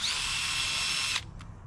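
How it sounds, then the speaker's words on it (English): A power drill boring into a tree stump buzzes steadily at high speed for just over a second, then cuts off, followed by a brief short burst. "So I'm gonna drill some holes in here."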